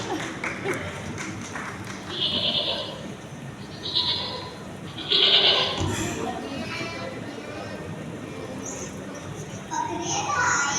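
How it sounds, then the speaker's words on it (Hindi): Several short, high-pitched goat bleats, mostly separate calls a moment apart, over a busy background of music and voices. "फिर उन्हें एक सींगों वाला बकरा नजर आया"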